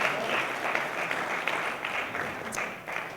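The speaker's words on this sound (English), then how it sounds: "Give her a round of applause." Wedding guests applaud in a room: a close, continuous patter of many hands clapping, steady and full for a few seconds.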